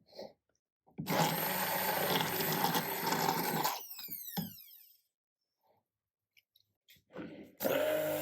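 A stick blender mixes black cold process soap batter in a loud, steady whir of nearly three seconds, then whines down in pitch. Shorter bursts of the motor follow after a pause.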